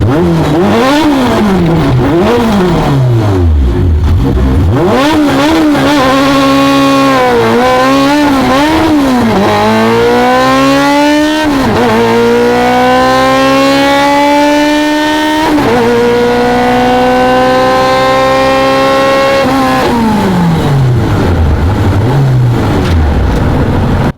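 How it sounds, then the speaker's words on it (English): A modified 450 whp front-wheel-drive Honda car does a first-gear burnout, its engine screaming loud and close through repeated climbing revs and sweeps for over twenty seconds, alone with no voices. "I did this burnout in first gear."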